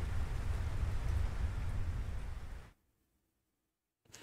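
Steady rain pours in a Final Fantasy XVI duel scene, a dense hiss that cuts off abruptly into near silence before briefly returning at the end.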